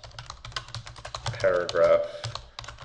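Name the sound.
typing on a computer keyboard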